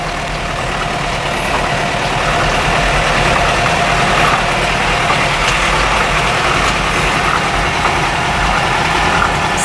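A Toyota Bandeirante engine runs steadily while the vehicle drives slowly along a rural farm track, a loud continuous diesel-like drone with no breaks and no voices.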